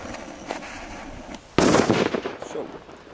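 Loud firework bangs and firecracker crackle burst out sharply midway, following quieter background noise, with the crackling decaying over the next second or so.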